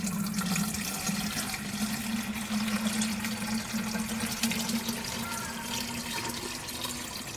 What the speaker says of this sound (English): pour the rest of this very thick clay water